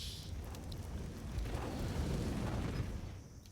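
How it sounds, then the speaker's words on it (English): Grenades burst across a bomb site during a CS:GO match at IEM Cologne 2023, a dense rolling boom that swells midway and holds for a few seconds before easing off, with no voices over it. "Big nades on the bomb site."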